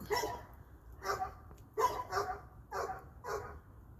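Puppies barking after a long nap, a series of sharp yappy barks in rapid clusters, fairly close and loud, with short pauses between the bursts.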